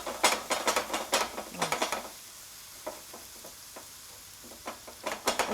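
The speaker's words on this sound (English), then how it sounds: "So it'll all be sizzling on that, and it'll be served on us at the table." Crackling, hissing sizzle of tofu on a hot sizzle platter, with irregular bursts of sharp pops, loudest at the start and end, a quieter stretch in between.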